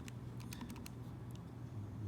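Numbers are keyed into a calculator as a quiet, quick run of light plastic taps over a low steady hum, with no talking.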